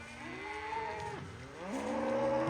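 Cattle on a farm moo repeatedly in clear, drawn-out calls, several overlapping lows rising and falling over a steady outdoor background.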